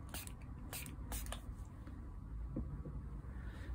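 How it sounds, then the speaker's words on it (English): Several quick bursts of a spray bottle misting water onto a watercolor painting hiss in the first second and a half, then a quieter steady background with faint handling noises. "You see how important the spray bottle is?"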